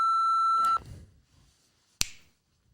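A single sharp finger snap rings out alone after a sustained electronic beep tone and a short stretch of quiet.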